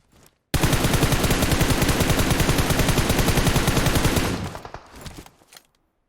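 Sustained automatic gunfire in the shooter game PUBG Mobile on the Livik map, a loud rapid burst of shots lasting several seconds at close range, then tapering into a few scattered shots and fading echoes.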